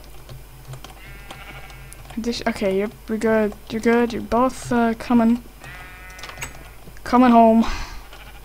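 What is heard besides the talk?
sheep bleating in Minecraft video game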